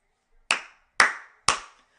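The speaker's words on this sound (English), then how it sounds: "The crowd is hyped. The crowd is lit." Three sharp, evenly spaced hand claps ring out at close range against near silence, during the third period of an Oilers vs Stars hockey playoff game.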